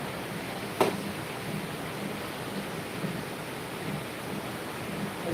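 Rain falls steadily during a tropical storm in the Philippines, a soft, even hiss throughout with one brief tap near the start and no voices.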